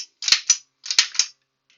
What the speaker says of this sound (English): As you work the jerky gun, draw it backwards so that you lay out 2 nice, even strips.